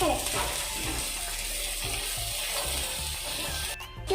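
Onion sautéing in a pan while making semiya upma, a steady broadband sizzle with soft rhythmic scraping from stirring throughout, close and fairly loud, with a brief quieter gap near the end.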